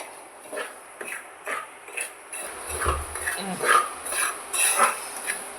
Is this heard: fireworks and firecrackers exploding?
no